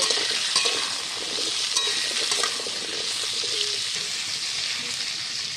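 Pumpkin and potato pieces fry together in a pan, giving a dense, continuous loud sizzle with faint scraping of a stirring utensil and no speech.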